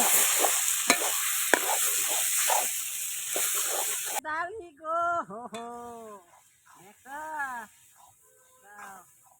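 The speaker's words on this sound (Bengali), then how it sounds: "মাংসটা দিয়ে এবার ভালো করে কষিয়ে নেব" Marinated stomach meat is stir-fried in a pan in a village kitchen, with a loud, steady sizzle and scraping for about four seconds before a voice starts talking over quieter frying.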